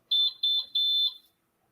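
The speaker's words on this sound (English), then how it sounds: "an alarm going off" A smoke-alarm-style electronic alarm sounds three short bursts of high, shrill beeping, loud and close, each burst pulsing rapidly, then it cuts off into silence.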